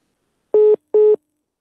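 Two short, identical telephone line tones with a gap between them sound in silence as a phoned-in call drops during a live broadcast, clean and moderately loud.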